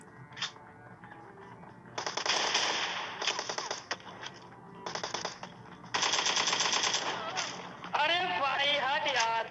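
Rapid bursts of shotgun and AKM gunfire ring out in a battle-royale shooter game, loud sustained automatic rattles in several volleys, with a voice talking over them.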